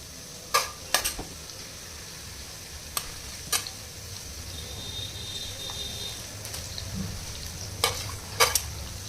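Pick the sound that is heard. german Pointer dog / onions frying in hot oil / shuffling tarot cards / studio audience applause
onions frying in hot oil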